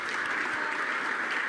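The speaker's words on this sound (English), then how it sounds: "Round of applause for our 23 finalists first of all though" Brief, steady burst of crowd applause for 23 finalists at a motor racing talent programme event, dense and even throughout.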